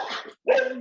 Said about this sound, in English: she sees the other dog